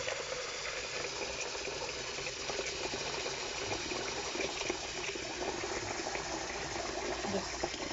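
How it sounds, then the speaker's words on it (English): Warm tap water runs into a bowl at a kitchen sink while making no-knead challah bread dough, a steady close splashing gush throughout with no talking. "I just take my bowl straight to the sink and I add water from my"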